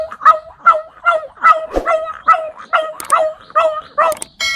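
A man imitates a pheasant call with his voice, giving a loud, close series of about ten rhythmic, evenly spaced yelping notes, with faint clicks near the end.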